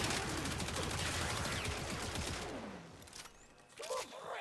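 Rapid sustained gunfire from a shooter video game, a dense automatic stream that tapers off after a few seconds, followed by a brief mechanical click and a short final shot.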